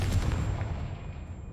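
A Confringo spell explodes in a Harry Potter video game, one sharp booming blast that rings out and decays over about a second and a half.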